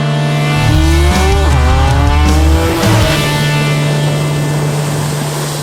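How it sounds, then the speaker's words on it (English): A bright orange 1969 Chevy Camaro Super Sport with a 396 V8 drives past close and loud, its engine revving up and down through shifts with a rising whine and a rumbling idle underneath. "This is a 1969 Chevy Camaro Super Sport."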